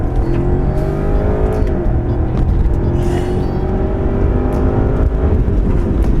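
A BMW 550i M Sport sedan with a 445-horsepower engine in sport mode accelerates hard, its loud, steady exhaust note climbing in pitch through the gears, with a brief shift dip, and no talk.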